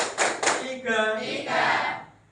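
Students clapping hands together in a classroom counting game, two quick sharp claps close by, followed by a teacher's voice speaking.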